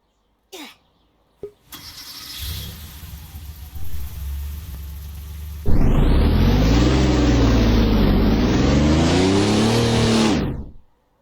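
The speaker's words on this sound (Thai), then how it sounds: "สำหรับเสียงเครื่องของเจ้าปอเช่ ที่ไม่ใช่ตัวลิมิเต็ดนะครับ" A Porsche in the Roblox Driving Empire game, not the limited edition, starts up and idles with a low rumble, then revs hard for about five seconds in a loud, rising and falling roar that cuts off abruptly.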